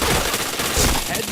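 Rapid bursts of gunfire from a first-person shooter video game fill the whole moment, dense and loud, like a fusillade of automatic weapons firing close up.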